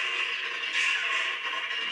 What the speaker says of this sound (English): the lightsaber lock clashing sound